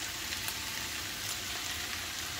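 Potatoes and cabbage frying in a pan give a steady, even sizzle throughout, moderately loud with no talking.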